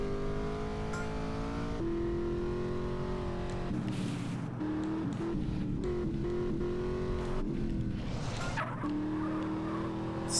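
A car drives and drifts in GTA San Andreas, its engine droning steadily and shifting pitch as it revs up and down, with tyre noise mixed in and no talk.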